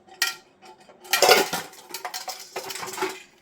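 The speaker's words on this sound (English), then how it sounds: "Got a champagne bucket," Aluminium champagne bucket being handled among scrap, with several sharp metallic clanks and rattles, a loud clatter in the middle and lighter knocks after, close and without talk.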